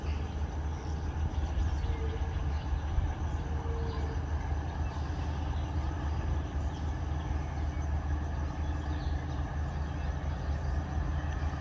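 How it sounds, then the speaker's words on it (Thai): GEA 4560 diesel locomotive hauling a Thai passenger train into a passing siding in front of a station, a steady low engine rumble and drone that stays constant and fairly loud throughout. "รถไฟวิ่งเข้าทางเส้นนี้นะครับหน้าสถานีบ้านหันเลย"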